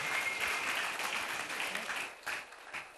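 Audience at an IAS academy success celebration clapping steadily for about two seconds, then thinning into scattered, fading claps; no speech over it.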